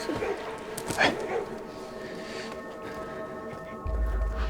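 A dog in a Qing-court palace drama gives a brief bark early on, partly buried beneath voices as people talk through most of the scene.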